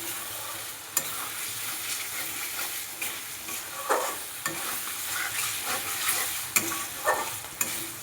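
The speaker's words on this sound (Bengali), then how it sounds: "এখন ভালো করে মশলাটা কষানো হয়ে গেছে" Spice paste for a ridge gourd and potato malai curry is fried and stirred in a pan, with a continuous sizzle broken by repeated scraping and clacking strokes of the spoon, close by and with no voices.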